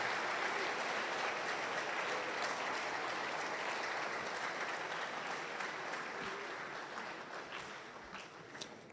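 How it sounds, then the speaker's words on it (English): A seated audience applauds after a lecture presentation: a full, continuous roll of many hands clapping that holds steady, then gradually thins and fades toward the end, with no talking. "Can we give him another round of applause?"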